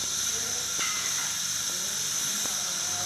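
Steady broadband hiss of refrigerant gas being fully released from the air conditioning on a Bajaj Dominar 250 motorcycle, continuous and fairly loud, with a few faint clicks.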